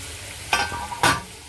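Marinated mutton hitting hot masala in a pan for a spicy Bakri Eid mutton rassa, giving two short bursts of sizzle and stirring against a quiet background.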